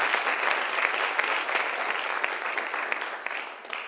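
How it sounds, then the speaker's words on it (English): A large audience at a community college honors and awards ceremony applauds board members, a dense, steady wash of clapping that runs throughout and tapers slightly at the end. "Everyone give a warm round of applause to our board members."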